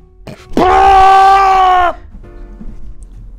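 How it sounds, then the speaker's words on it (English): A dramatic scream from the film Morbius: one loud, sustained anguished cry held for over a second at steady pitch, then cut off, leaving faint background noise. "that is one of the best cinematic fucking screams"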